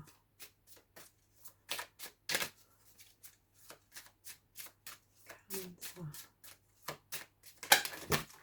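Tarot cards being shuffled by hand: a string of short, crisp riffles and slaps in an uneven rhythm, close and fairly quiet, with someone speaking softly in between.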